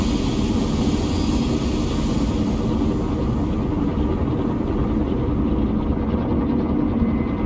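An old helicopter in the video game S.T.A.L.K.E.R. drones with a steady, loud rotor and engine rumble that fills the whole stretch without a break, with no talking.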